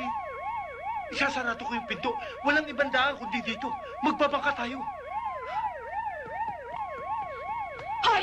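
A police siren wails steadily through a tense 1993 Filipino film scene, its rising and falling tone running throughout while people shout and talk urgently over it.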